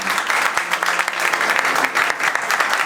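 Lively audience applause at a church music gathering, brisk, dense clapping continuing steadily for a few seconds, loud and near.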